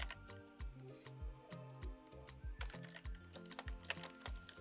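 Typing on a computer keyboard while working in Photoshop, a quick run of light clicky keystrokes in an irregular rhythm, close and fairly quiet with no talking.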